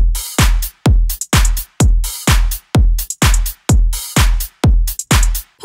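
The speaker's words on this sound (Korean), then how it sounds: "이 곡의 드럼 사운드는 이런 식으로" A loud electronic drum pattern from a K-pop song, with deep booming kicks that fall in pitch and crisp snare and clap hits in a steady, bouncy groove. It plays alone, with no talking.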